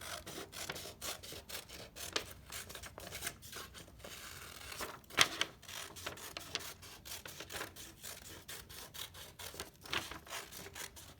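Scissors snipping around a round paper shape, a steady run of quiet, rhythmic crisp cuts with light paper rustle, close up and without talk.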